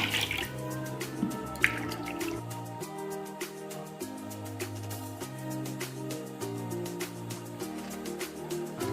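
Water splashes and trickles from a cup into a cooking pot for Gobindobhog rice pulao, with a few distinct pours and drips over a quiet background hum.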